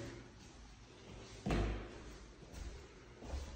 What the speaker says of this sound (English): Double doors.